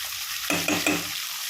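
Chayote, tomato, onion and grated coconut sauté in a pan, with a steady sizzle under three short bursts of stirring scrapes close by, and no voices.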